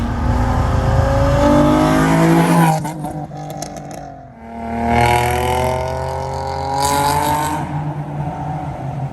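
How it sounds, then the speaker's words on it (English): Loud, rumbling Nissan 350Z exhaust through a very loud muffler, revving and roaring through gear changes, the engine note rising, dipping, then surging again close by. "It had a very loud muffler."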